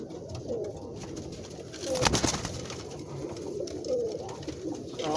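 Crowd of pigeons cooing together inside a breeding loft holding about sixty birds, a steady layered murmur of overlapping coos with a louder swell midway, close and continuous.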